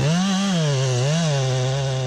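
Chainsaw cutting into a white oak tree, a loud, close, steady engine whine that wavers slightly in pitch under load throughout.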